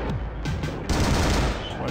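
Gunfire in a Doom-style video game, a fast rattling burst of shots that runs through the whole moment, loud and close under low game sounds.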